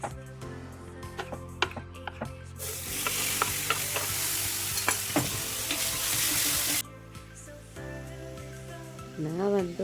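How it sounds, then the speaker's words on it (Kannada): Ginger and garlic fry in a pan while being stirred, a loud continuous sizzle surging in the middle with repeated scraping strokes of a spoon, quieter frying before and after. "ಶುಂಠಿ ಬೆಳ್ಳುಳ್ಳಿ ಸ್ಮೆಲ್ ಬರೋವರೆಗೂ ಚೆನ್ನಾಗಿ ಫ್ರೈ ಮಾಡ್ತಾ ಇರ್ಬೇಕು."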